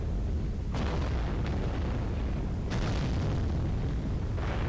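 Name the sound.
mech weapons firing in MechWarrior Online video game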